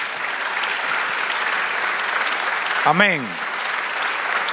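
A church congregation claps steadily throughout, a dense even applause with one voice rising briefly from the crowd partway through.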